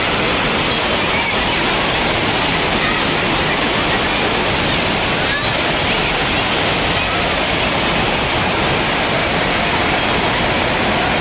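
Loud, continuous rushing of an overflowing waterfall near Damodar Kund, Junagadh, a dense steady roar of churning water close by with no breaks.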